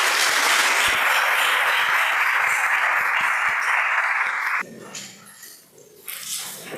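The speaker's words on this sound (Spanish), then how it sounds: "recibamos con fuerte aplauso" An audience at an education talk breaks into strong, dense applause that runs for several seconds and then cuts off abruptly, leaving a quieter room with faint scattered sounds.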